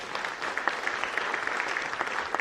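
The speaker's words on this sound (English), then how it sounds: "We'll give her a round of applause" Applause at a CHIPS student ceremony, a steady patter of many hands clapping together at moderate loudness, sustained for the whole stretch with no voices over it.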